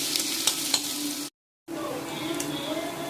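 Green chilli, garlic and ginger sauté in a hot pan, giving a steady close sizzle with light stirring scrapes, cut by a brief silent gap before the frying resumes.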